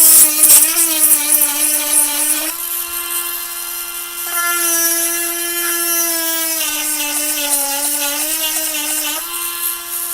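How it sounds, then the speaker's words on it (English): Small 12-volt chainsaw chain sharpener grinding the teeth of a worn chain, a steady high-pitched motor whine with shifting pitch as the grinding stone touches each tooth, loud and close with no talking. "I'm pretty happy with the 12-volt chain sharpener. It works great, runs great"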